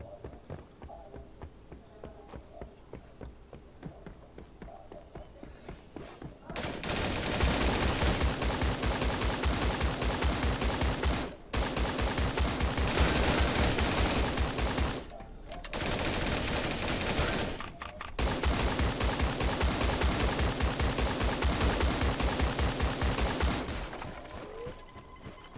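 Dense, rapid gunfire bursts in the game Creative Destruction, with long sustained volleys broken by brief pauses, loud and continuous after quieter background clicks at the start; no speech.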